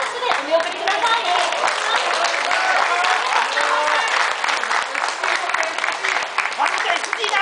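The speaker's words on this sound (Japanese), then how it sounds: "大きな大きな拍手でお見送りください" At an award ceremony at a motorcycle speedway, a crowd applauds steadily and fairly loudly for the entire stretch, dense clapping with crowd voices mixed underneath.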